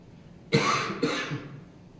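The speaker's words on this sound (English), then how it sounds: "I apologize for the voice and the piercingness of the cough" Two sharp, harsh coughs in quick succession, close and fairly loud, against a quiet background at a city commission meeting.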